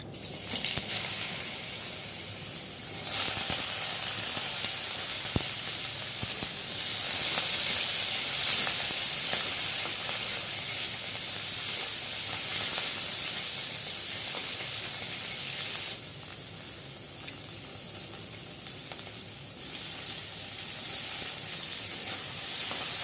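Vegetables frying in hot oil in a wok, a loud steady hiss and sizzle that swells suddenly a few seconds in and softens again later, with no voices.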